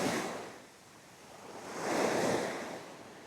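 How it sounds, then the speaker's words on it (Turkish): Sea waves wash against the shore on a fishing trip near Bursa, a soft, steady rush of surf that swells and fades once, faint and somewhat distant, with light wind noise and no speech. "Böyle bayağı da bir dalga var şu an."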